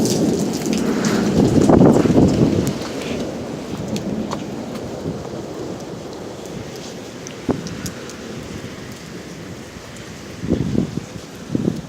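Thunderstorm with steady rain hissing down and a loud rumble of thunder early on, fading into continuous rainfall with a few sharp distant cracks near the end.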